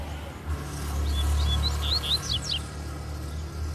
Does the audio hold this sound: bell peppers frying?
no